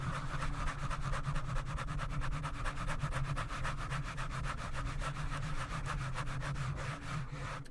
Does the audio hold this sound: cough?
no